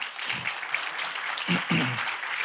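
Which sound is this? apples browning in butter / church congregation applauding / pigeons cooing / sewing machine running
church congregation applauding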